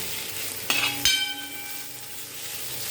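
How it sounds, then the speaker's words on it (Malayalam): A beetroot stir-fry with coconut is stirred in a pan, with two sharp metallic clinks that ring briefly over a faint, quiet sizzle. "തേങ്ങ ചേർത്ത് നന്നായി ഇളക്കി കൊടുക്കാം"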